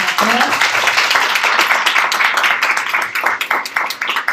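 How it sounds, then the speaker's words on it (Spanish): Audience members clap at the close of a forum on freedom of expression and internet regulation, a brisk, fairly close burst of applause with individual claps audible, thinning slightly toward the end. "un aplauso para todos, para todas"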